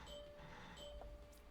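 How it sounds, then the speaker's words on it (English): A home doorbell rings faintly once, a soft sustained chime sitting low under the busy background sound of a video game. "If you heard that, that was my doorbell."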